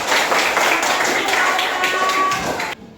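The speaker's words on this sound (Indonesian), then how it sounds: "Oke, kasih tepuk tangan dulu untuk Alfa." A classroom of students claps for a classmate during a science lesson, a short burst of quick, close hand claps with a faint voice underneath, ending abruptly.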